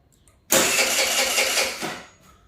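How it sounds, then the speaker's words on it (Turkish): A motorcycle engine with a hard-starting problem is cranked on its electric starter, a sudden loud burst that holds steady for over a second before fading away, heard up close with no talking. "Şimdi sizlerle beraber motorumuzu marşına basıyoruz."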